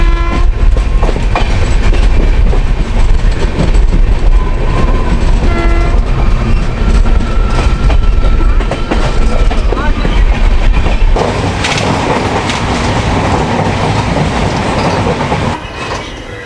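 The Jan Shatabdi Express rolls along the rails between Patna and Ranchi, a loud, steady rumble with rhythmic wheel clatter and a horn sounding, under a voice talking throughout.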